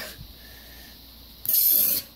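Tire foam sprays from a shaken aerosol can through a straw, a loud steady hiss lasting about half a second after a quieter lead-in.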